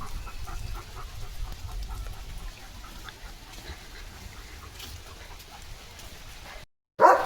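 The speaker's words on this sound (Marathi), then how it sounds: "पावसात पण लिओची ड्युटी चालली" Steady soft rainfall patters on surfaces throughout, with a faint murmur beneath, ending in a brief cut and a short louder burst.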